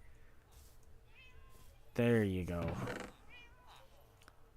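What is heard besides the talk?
cat meowing in Minecraft video game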